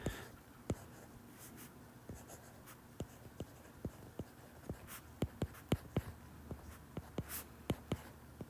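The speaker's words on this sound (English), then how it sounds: "take a second and write the equation at the top" A pen writes an equation on paper, close and quiet, with scratchy strokes and sharp taps in an irregular rhythm, alone with no talk.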